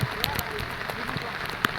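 Rain falling over flooded rice paddy fields during monsoon transplanting, a steady broadband patter with scattered drop hits, heard close and moderately loud under background voices.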